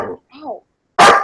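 A dog lets out a single loud, sharp bark close by, right after a few moments of people talking nearby.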